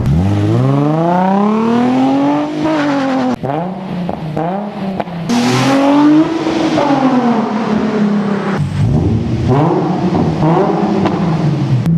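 A 2008 Nissan 350Z with its V6 and aftermarket exhaust revs hard, the engine note climbing and falling through repeated pulls and shifts, loud and close throughout with no voices.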